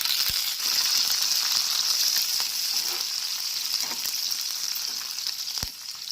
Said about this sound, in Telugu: పోపు అయితే చక్కగా వేగింది కదా